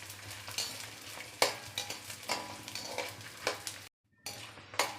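Edible gum (gond) roasting in a pan for chickpea ladoos, giving a steady sizzle with repeated stirring scrapes and light utensil clinks, close and alone, cut by a brief silent gap near the end.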